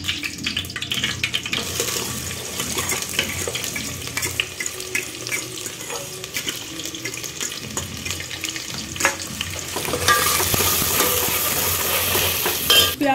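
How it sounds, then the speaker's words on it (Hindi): Onions sizzle in hot oil for a special Maggi recipe, a dense continuous crackling fry with scraping stirs, growing louder and brighter toward the end. "तेल थोड़ा गर्म हो गया है। अब इसमें मैं प्याज डाल देती हूँ।"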